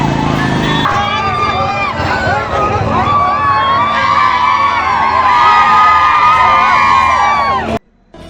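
Party workers cheering and celebrating an election win at the Ishwarpur municipal council poll, a loud dense crowd of shouting and whooping voices close by, continuous for several seconds before cutting off abruptly.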